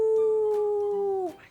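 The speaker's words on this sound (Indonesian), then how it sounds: "Iya, teman-teman tahu kan suara serigala?" A single wolf howl rings out as a sound effect in a children's story, one long, steady, clear, loud tone that slides down and fades at the end.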